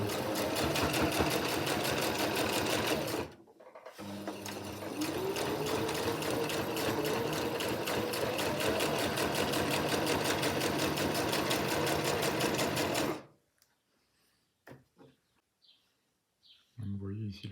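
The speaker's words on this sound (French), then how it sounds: "va piquer une piqûre droite qui va être maintenue dedans" A domestic sewing machine stitches a straight seam while an invisible zip goes into a skirt or trousers, a fast steady close-up whir with a short pause near three seconds, then stopping near thirteen seconds before faint handling noises.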